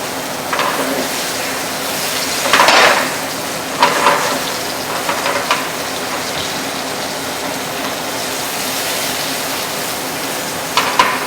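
Food frying slowly in extra virgin olive oil over moderate heat gives a steady close sizzle with a few louder crackling bursts.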